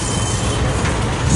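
A CSX freight train slowly backs through Woodbourne Yard, giving a steady, loud low rumble of rolling rail cars and wheels throughout, with faint high squeal above.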